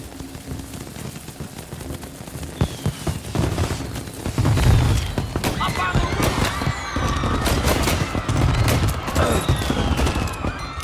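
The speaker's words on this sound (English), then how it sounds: "And now for the fireworks" Fireworks burst in the Mafia Definitive Edition video game, dense rapid crackling and popping like a fusillade that builds over several seconds, with voices talking over it.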